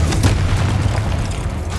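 A Confringo fire spell bursts in Hogwarts Legacy: a loud, close, blasting boom with crackling debris that rumbles steadily and slowly fades.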